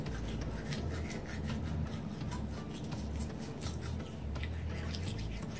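A banana peel rubbed gently against teeth gives a soft, quiet, steady rasping scrub with faint repeated strokes, close up and without speech.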